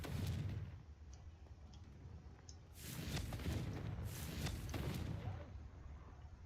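Fiery spell explosion in a wizarding video game, heard as a low rumbling burst that swells twice in quick succession, fairly loud and broad, with faint ticks before it and no talk over it.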